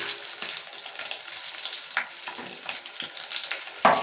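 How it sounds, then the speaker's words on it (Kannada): Onions frying in a pan for homestyle chicken biryani, a steady close sizzle with light crackle and occasional stirring scrapes, heard alone without talk. "ಈರುಳ್ಳಿ ಹಾಕ್ಕೊಂಡು ಅದು ಹಸಿ ವಾಸನೆ ಹೋಗೋವರೆಗೂ ಹುರ್ಕೊಳ್ಳಿ ಸ್ವಲ್ಪ, 1 ನಿಮಿಷ ಅಥವಾ 2 ನಿಮಿಷ"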